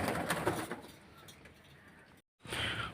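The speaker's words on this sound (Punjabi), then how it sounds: "ਆ ਸਾਰੀਆਂ ਕਬੂਤਰੀਆਂ" Pigeons coo softly in low, rolling calls, fairly faint, before a brief pause and a burst of rustling noise.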